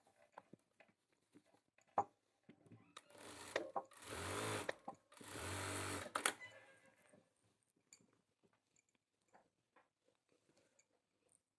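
A sewing machine stitches a men's kurta, two loud continuous whirring bursts of running stitches, about one and two seconds long, framed by faint clicks and handling noise in a quiet room.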